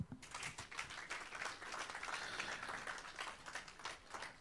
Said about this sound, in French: de bien vouloir renouveler vos applaudissements pour monsieur le président de la commission électorale indépendante